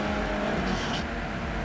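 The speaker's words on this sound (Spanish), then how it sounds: "Van a salir los coches volando." Racing cars roar and crash in the Destruction Derby 2 video game, a steady, dense engine drone with revving and tire squeal filling the short stretch without pause.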